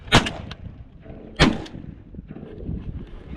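Two loud shotgun blasts boom about a second apart during a duck hunt from layout blinds, fired at a pintail, and each is followed by a short fading echo over a quiet outdoor background.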